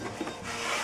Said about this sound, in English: Just rub your hands on there and try to get the olive oil throughout all the surface of the dough